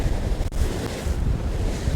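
Ocean waves surge against the rocks at a Cape Banks fishing spot near Sydney, a steady loud wash of surf with wind buffeting the microphone throughout.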